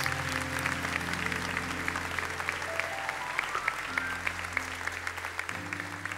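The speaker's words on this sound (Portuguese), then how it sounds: "Se você quer aplaudir, faça isso com todas as suas forças." A church congregation claps continuously throughout, a dense steady patter over sustained organ or keyboard chords, with a faint voice surfacing briefly.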